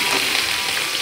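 Ginger and garlic frying in oil, a steady close sizzle and crackle with no voices.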